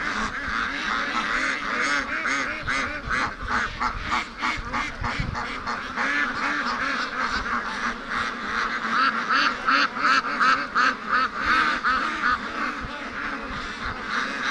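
Free-range ducks quacking in a dense, continuous chorus, loud and close, with rapid overlapping calls for the whole stretch and no talking.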